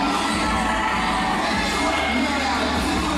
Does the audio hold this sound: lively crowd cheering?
yes